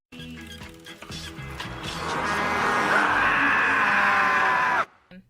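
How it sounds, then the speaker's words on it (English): An Enderman from Minecraft screams, a harsh, distorted shriek that builds over several seconds to a loud, sustained peak and then cuts off abruptly. "I still kinda piss myself every time I hear an Enderman scream"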